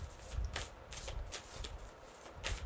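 Tarot cards shuffled by hand in quick, soft riffling bursts, about six brief papery flutters repeating close by and quietly, with no voices.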